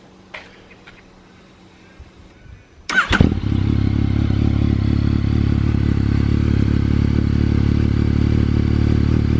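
A Yamaha MT-09 motorcycle engine cold-starts after a few faint clicks, catching with a sharp crank burst and settling into a loud, steady idle with a mechanical clatter from the cam chain tensioner.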